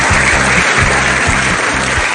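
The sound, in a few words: standing ovation applause from conference participants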